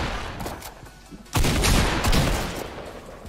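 Gunfire in the video game Fortnite: a few scattered shots, then a loud, dense burst of rapid firing that starts abruptly and carries on close by to the end.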